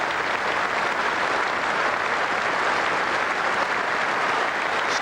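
Sustained standing applause from a large cricket crowd at Lord's during an England vs Sri Lanka Test match, a dense, steady roar of clapping filling the whole stretch at even loudness, with no voices standing out.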